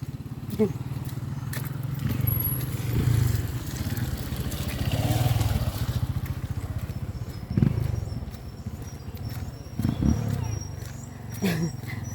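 A motorcycle engine rumbles nearby, swelling and fading as it passes and turns, with scattered voices and outdoor noise around it.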